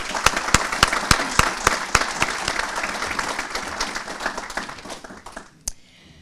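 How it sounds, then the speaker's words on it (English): A civic audience at a Mount Clemens State of the City address breaks into applause. Loud, sharp individual claps punctuate a dense round of clapping that gradually thins and fades, ending with one last isolated clap. "Please join me for a special round of applause now for all those who are working on our behalf"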